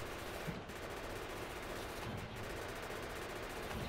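Rapid automatic gunfire from a turret in the Factorio video game rattles continuously at a moderate distance, a dense unbroken stream of shots with no speech.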